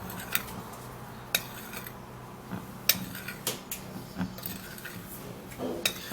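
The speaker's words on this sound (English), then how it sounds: "I'll equally be putting half tablespoon of corn flour" A spoon adds half a tablespoon of corn flour, with a series of light metallic clinks and taps against a bowl, irregular and close, over soft background noise.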